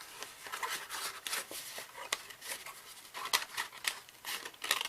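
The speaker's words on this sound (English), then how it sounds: "By sticking your scissors through the slot." Scissors snip and crunch through journal paper, cutting out a shape in a quick, uneven series of close, quiet crisp cuts with faint paper rustling between them.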